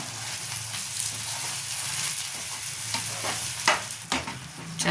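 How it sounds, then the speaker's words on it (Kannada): Spinach paste stirred into fried tomato in a pan, a steady soft scraping and sizzle with a few louder clatters of the spoon near the end. "ರುಬ್ಕೊಂಡ ನಂತರ ಅದಕ್ಕೆ ಈ ಥರ ಹಾಕಬೇಕು ಅದನ್ನು ಚೆನ್ನಾಗಿ ಮಿಕ್ಸ್ ಮಾಡಬೇಕು"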